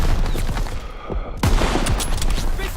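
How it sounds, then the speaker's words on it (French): Call of Duty WWII gunfire: dense, loud rapid shots and bursts of fusillade crackle continuously through the short clip, with a brief lull before the firing resumes with heavy impacts. "Daniel, tire dans les réserves de munitions!"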